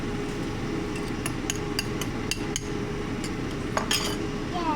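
Metal utensils clink and scrape steadily against a pot or dish while sauce is mixed for a family dinner, a quick run of small taps and knocks over constant kitchen background noise.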